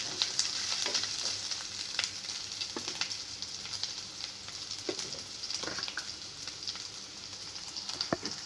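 Crushed garlic and ginger paste fry in a pan with a continuous, soft, crackling sizzle. Occasional light scrapes of a stirring spoon sound close but quiet, and no one speaks.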